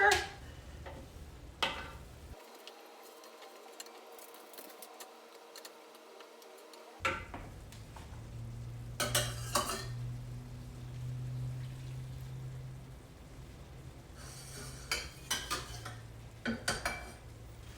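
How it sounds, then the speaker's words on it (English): A spoon works through spring risotto with asparagus in a pot, giving quiet, intermittent scrapes and light clinks against the pot, with scattered clicks and a low hum in the background. "Not forgetting to constantly stir."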